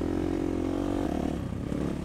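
Motorcycles riding on desert dunes near Dubai, a steady loud engine drone with a shift in pitch partway through, close and continuous.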